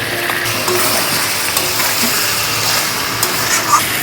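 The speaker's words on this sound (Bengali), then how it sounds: "সব কিছু দিয়ে আবার ভালোভাবে নেড়ে নেব" Spiced mutton curry being stirred in a pan: a loud, close, continuous sizzling hiss with faint scraping of a spoon and occasional small clicks, no voices.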